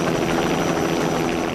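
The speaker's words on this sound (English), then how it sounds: "Lady Thatcher is on her way and he's chartered a helicopter to run him up the coast to Morecambe." A chartered helicopter flying along the coast from Blackpool toward Morecambe produces a loud, continuous rotor throb and engine roar that is close and steady throughout.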